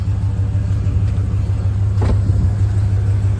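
A Mazda car engine idles steadily with a low, constant rumble and an even hum, close and continuous, with no revving and no voices.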